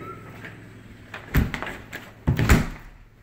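A door to a two-car garage in a house opens with a couple of close knocks and clunks of handle and latch, then a quieter scrape and a final thud.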